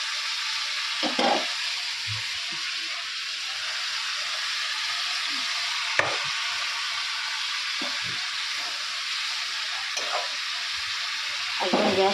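Spices and tomatoes frying in a pan on a home kitchen stove, a steady close hiss and sizzle with a few brief clinks and stirring knocks scattered throughout.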